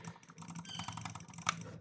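Typing on a new mechanical keyboard: a quick, steady run of crisp clicky keystrokes, close and fairly quiet, with no talk.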